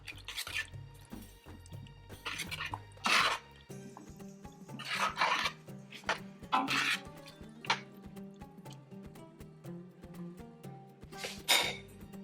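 A spoon stirs a medieval Baghdad meat stew in a pot after kashk and verjuice go in, giving soft scraping and wet rubbing strokes with small drips and clinks, close and fairly quiet, with no talk.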